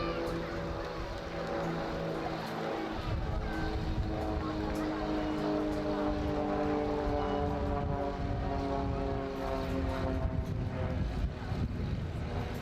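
Starlings display team aircraft flying in at the Wales Airshow 2024: a droning propeller engine hum with rising tones that grows steadily louder as the planes approach, under a commentator's voice.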